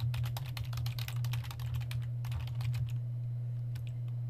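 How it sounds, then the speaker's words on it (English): Keys clatter on a computer keyboard in quick, irregular bursts while someone enters HTML code, with a steady low hum running underneath and a brief pause near the end. "I'm going to type href, put the href attribute"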